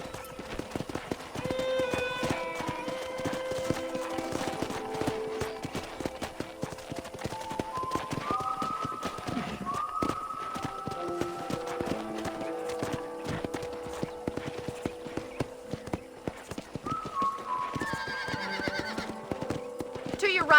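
Hooves clip-clop steadily in a running rhythm while a horse whinnies a few times in Red Dead Redemption, with game music and a voice talking over it.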